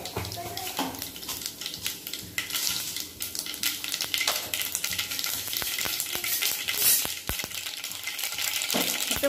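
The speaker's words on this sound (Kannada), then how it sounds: "ಇದು ಎಣ್ಣೆ ಕಾದ್ಮೇಲೆ 1 ಟೇಬಲ್ ಸ್ಪೂನ್ ಅಷ್ಟು ಸಾಸಿವೆ ಜೀರಿಗೆ ಹಾಕ್ತಾ ಇದ್ದೀನಿ" Mustard seeds and cumin frying in hot oil, a steady dense sizzle with sharp crackling pops and spatters throughout, close and fairly loud.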